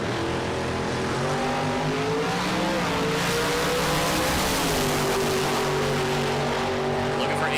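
Two 1968 Camaros, one black, roar down a drag strip, their engines revving hard and loud throughout, with shifting pitch as they accelerate and faint tire noise under the continuous racing din.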